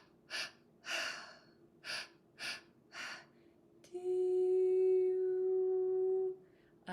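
Five quick, forceful breaths in an even rhythm during a breathwork session, each a short airy rush, followed by a long sustained ringing tone that fades out.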